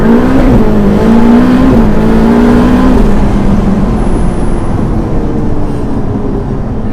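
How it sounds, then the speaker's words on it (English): Ferrari F8 Spider with its 710 hp twin-turbo V8 launching under launch control, a loud sustained engine roar climbing steadily in pitch through the gears, heard close from inside the cabin without talk. "We interrupt this message to bring you launch control."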